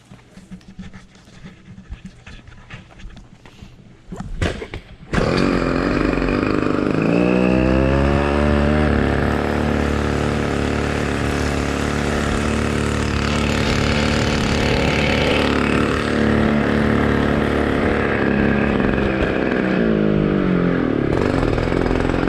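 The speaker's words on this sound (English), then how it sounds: "Now I can rip it on the GoPed." A 1995 Snap-on edition GoPed motor scooter with a leaking fuel tank starts after a few sputters, then its small two-stroke engine buzzes loudly and steadily up close, with repeated revs rising and falling in pitch.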